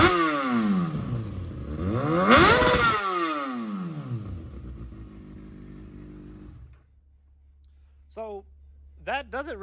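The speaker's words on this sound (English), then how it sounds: "just set the muffler on the side, and then the bike automatically sounds pretty much like it has an exhaust" A Kawasaki ZX-6R sport motorcycle with no muffler revs loudly, its raw exhaust rising and falling twice before settling into a rough idle. A voice briefly speaks near the end.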